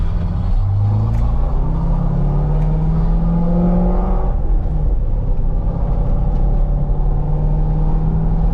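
A C6 Chevrolet Corvette fitted with a short throw shifter, heard from inside while driving: a loud, continuous engine rumble whose pitch rises and falls through the gears, with no talking.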